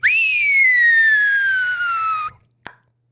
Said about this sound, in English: Like that whistle.